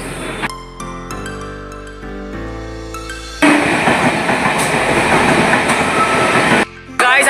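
A train running from Sankrail toward Howrah. Tonal horn or whistle-like notes come first, then a loud, dense rumble of the carriages rolls steadily close by before it briefly drops away near the end.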